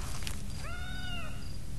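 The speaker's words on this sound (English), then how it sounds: "Oh, that was a big cat." A large mutant cat creature in the game S.T.A.L.K.E.R. lets out a short, wavering, meow-like yowl over a dense background rumble of ambient noise.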